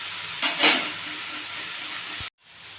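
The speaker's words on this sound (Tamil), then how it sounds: "கீரை அப்போதைக்கப்போ கிண்டிக்கணும்" Arai keerai greens frying and being stirred in a pan, a steady close sizzle with a brief louder scraping burst early on, cutting off abruptly near the end.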